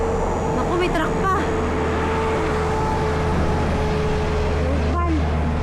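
A truck labors along a steep uphill road in Malico, San Nicolas, Pangasinan, giving a steady, continuous engine rumble and road noise throughout, with a few brief sharper sounds and faint voices in the background.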